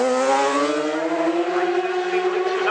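An Isle of Man TT racing motorcycle, number 4 ridden by Cameron Donald, screams past at very high speed on a fast lap, its loud engine tone rising and sweeping steadily throughout, close and alone.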